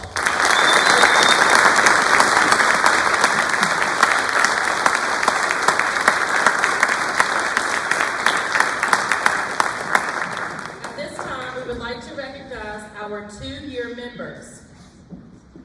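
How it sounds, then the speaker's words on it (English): Loud, dense applause from an audience at a junior honor society induction ceremony fills the first ten seconds, then fades as a voice starts speaking. "Please give our new members a round of applause."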